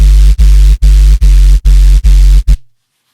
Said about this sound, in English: And with noise, it sounds like this.